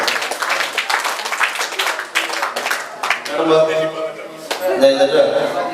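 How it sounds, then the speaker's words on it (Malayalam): An audience at a cultural committee inauguration function claps in a quick, regular beat for a few seconds while a voice talks over a PA, then the clapping fades under tonal music and speech. "ഒന്ന് താളത്തിൽ കൈയ്യടി നോക്കാം."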